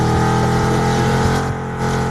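Car engine revving in the mobile driving game Car Parking Multiplayer, a steady loud droning engine note held throughout, with a slight dip in intensity partway through.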